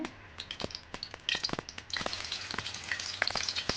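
Hot cooking oil crackling in a kadai, a stream of sharp irregular pops and spits over a soft sizzle, close and fairly quiet.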